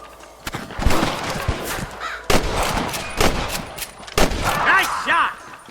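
Gunfire in the Red Dead Redemption video game on PS3, a loud shootout with sharp separate shots and quick bursts at irregular intervals, mixed with crow-like caws and shouting voices.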